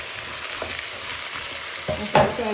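Chopped tomatoes frying in a pan, an even sizzle broken by a few stirring scrapes, louder toward the end.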